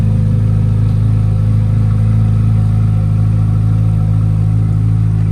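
A 2023 Chevrolet Corvette Z06 3LZ Coupe with a 5.5-liter flat-plane-crank V8 idles steadily, its exhaust giving a loud, deep, continuous rumble up close with no talk.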